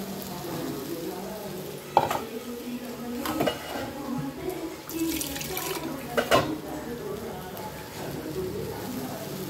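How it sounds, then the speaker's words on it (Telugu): Ground paste hitting hot oil in a Telugu-style tempering for chow-chow kootu, sizzling steadily while a spoon scrapes and stirs with sharp clinks of utensils against the pan, close up. "ఇప్పుడు ఆల్రెడీ రుబ్బి పెట్టుకున్న పేస్ట్ని యాడ్ చేస్తున్నానండి."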